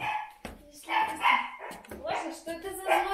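A fierce dog barks and yips in repeated loud bursts close by at the entrance of a home, overlapping with a person's voice.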